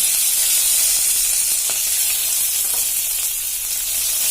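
Green chilies, onions and curry leaves sizzle in hot oil for a ridged gourd peanut stir-fry, a steady close frying hiss with a few soft crackles and no voices.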